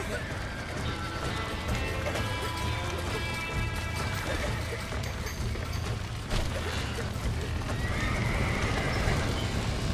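Horses in the Red Dead Redemption video game whinny and neigh amid clopping hooves and a busy game soundscape, with voices talking over the scene.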